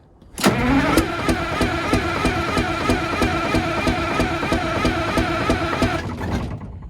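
A Detroit Diesel bus engine cranks over steadily on its starter for about six seconds, a loud, even, rapidly pulsing churn that begins abruptly and stops near the end, with no voices.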